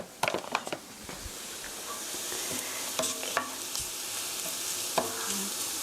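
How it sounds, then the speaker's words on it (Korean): Flour stir-fried in a pan for a cream sauce for fusilli, with a constant soft sizzle broken by sharp spatula scrapes and clicks, busiest at the start and again midway; no speech. "1미닛 1분 정도 볶아주세요. 밀가루가 노릇노릇하게 될 때까지."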